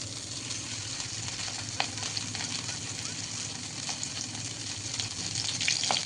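Prawns coated in chili powder, rice flour and cornflour fry in hot oil with a steady, soft, close sizzle and occasional small pops and crackles throughout.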